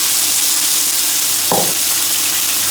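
Chickpeas tipped into a hot pan with chorizo sizzle steadily, with a brief sharper burst of spitting as they hit the oil and are stirred, close and loud.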